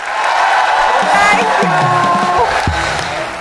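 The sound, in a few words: audience applause and cheering for married couple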